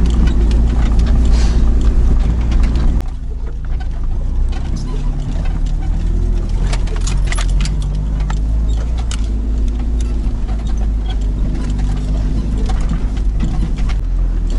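A car driving along a river road, its engine a steady low rumble with road noise filling the cabin, loud and close, joined by rattles and a faint jangle of keys.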